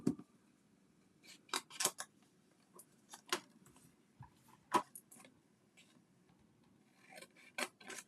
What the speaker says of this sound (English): So then we will fussy cut him out.